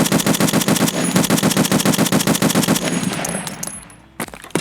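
Rapid semi-automatic fire from an M1A rifle in Escape From Tarkov, a loud, evenly spaced string of shots for about three seconds, then a trailing echo and one last isolated shot.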